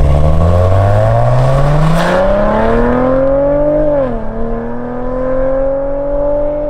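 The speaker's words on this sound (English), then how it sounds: "And the sound it makes never gets boring." Maserati Ghibli with a twin-turbo V6 revs up hard, a loud rising engine note that climbs steadily, dips briefly as it shifts, then keeps pulling; no voices.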